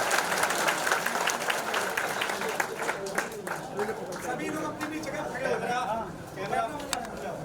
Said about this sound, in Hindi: तालियां, जोरदार तालियां होंगी।